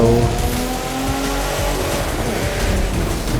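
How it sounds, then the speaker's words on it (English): Racing cars in The Crew 2 video game, a Lamborghini among them, roar steadily with layered engine tones, tire squeal and skidding noise, loud and continuous. "I think the car in front of us is a Lamborghini"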